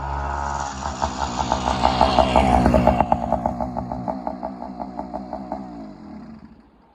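The small engine of a motorized bicycle, just tuned up with its idle screw adjusted, runs close by with a rapid, even putter. It rises slightly, holds steady and then fades out as it winds down.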